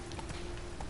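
The horse Roach's hooves clop steadily at a brisk pace, close and fairly loud against rough weather noise, with no one talking.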